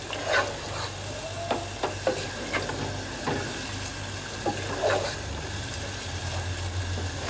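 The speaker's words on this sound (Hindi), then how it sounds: "अब इसको अच्छे से मिक्स कर लेंगे और तेज़ आंच पर थोड़ा सा इसको भी भूनेंगे ताकि थोड़ा सा टमाटर का पानी खुश्क हो जाए।" Tomato curry masala for chicken gravy frying on high heat, a steady sizzle with a spoon scraping and stirring through the pan in irregular strokes, no talking.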